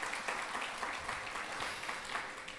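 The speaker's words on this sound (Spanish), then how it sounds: "Dale un aplauso al Señor." A church congregation claps during a Spanish-language worship service, with sustained, moderately distant applause rippling through the room across the whole stretch.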